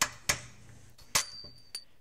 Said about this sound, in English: you'll need a hammer to remove the plate